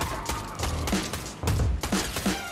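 Gunfire from a Fortnite weapon while driving: several bursts of shots in quick clusters, loud and close, with engine-like rumble underneath and no talk.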